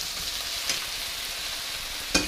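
Teriyaki steaks fry in a hot pan with a steady, moderate sizzle throughout, broken by two brief louder crackles or clinks, one early and one near the end, with no talking.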